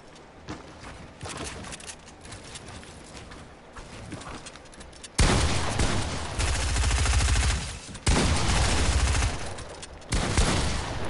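Gunfire in the Fortnite video game, including pump shotgun blasts: a quieter stretch of distant game noise gives way to loud, dense, booming bursts of shots, broken by brief pauses.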